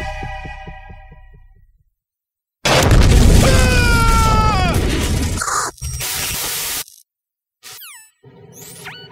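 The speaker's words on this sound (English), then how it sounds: "Colonel, any damage report on the explosion?" A large explosion in the Metal Gear Solid 2 video game erupts loudly after a near-silent stretch, a dense rumbling roar with whistling tones over it that cuts off abruptly, followed by short bursts of game sound.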